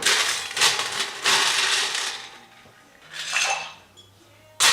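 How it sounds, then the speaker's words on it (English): Ice rattles and clatters into a cocktail mixing glass holding three spirits including Amaro Angelino, a few loud clinking bursts up close with quieter gaps between, no talking. "We're gonna add some ice."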